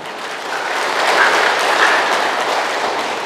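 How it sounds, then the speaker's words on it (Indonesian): Applause from a church congregation fills the clip, a steady dense wash of clapping that swells slightly in the middle and holds fairly loud throughout. "Tepuk tangan."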